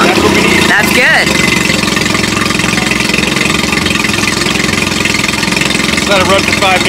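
A sailboat engine idles loudly and steadily at close range, flushing salt from its raw water intake, with a brief clatter near the start and faint background voices.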